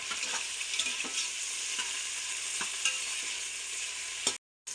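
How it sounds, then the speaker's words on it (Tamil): Onions frying in oil for mutton biryani give a steady, bright sizzle with faint clicks of stirring, close and continuous, then a brief silent cut near the end. "வெங்காயம் நல்லா பொரிஞ்சு நிற்குது"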